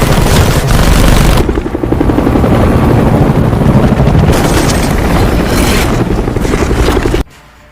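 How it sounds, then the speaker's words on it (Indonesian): A loud helicopter thunders close overhead while shooting, its rotor chopping in rapid, heavy bursts, before the noise cuts off abruptly near the end. "tiba-tiba helikopter datang dan menembaki mereka"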